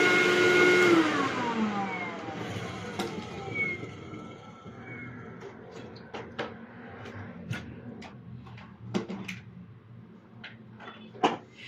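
A Hyla water-filter vacuum cleaner whines loudly at first, its motor pitch sliding down as it winds off, followed by scattered clicks and knocks of handling, with faint talk in the background.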